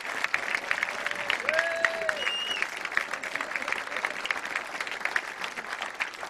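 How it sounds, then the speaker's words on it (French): Audience applause at the launch of a 24-hour innovation event at a French engineering school, a steady crowd of hands clapping throughout with a few cheers and whistles rising above it, moderately distant. "Applaudissez-le, parce que c'est grâce à lui qu'on fait des choses comme ça."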